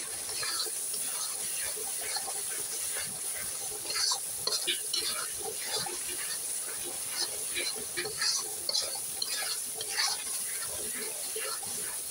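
Shrimp masala frying in a pan while being stirred, with a steady soft sizzle and intermittent scraping stir strokes, close and moderately quiet throughout.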